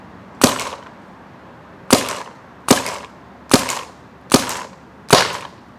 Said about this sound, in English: let's see how a GOR5 handles frozen paintballs